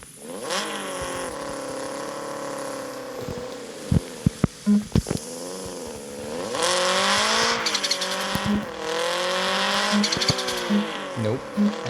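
Rally-spec Subaru Impreza engine in the driving game CPM2, revving steadily and climbing toward 7,000 RPM through the gears, with a continuous loud drone that dips and rises at each shift.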